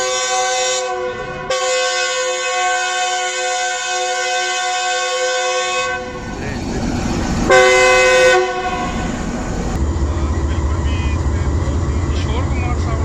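The Fareed Express arrives at Ring Road railway station in rain, with loud, long train horn blasts followed by the heavy rumble and clatter of the passing rail cars.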